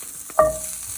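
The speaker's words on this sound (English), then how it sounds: "I'm just gonna place my burgers in here like so, frozen" Frozen Beyond Meat burger patties land in melted butter in a cast iron skillet, giving one sudden close sizzle that flares up and then settles into a softer, steady frying hiss.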